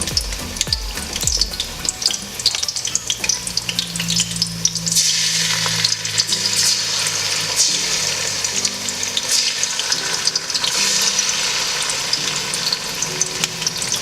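Onions and tomato puree sizzle steadily in a pot for coconut jollof rice, with a few sharp clanks of stirring at the start before an even, close frying hiss takes over.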